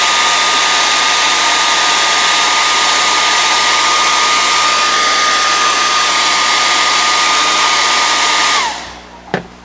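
A hair dryer roars at full blast with a steady high whine for several seconds, then switches off, followed by a single soft thump.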